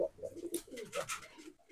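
A Nildumma pigeon coos faintly in a few low, rolling bursts, close but quiet, with light rustling and background noise between the calls.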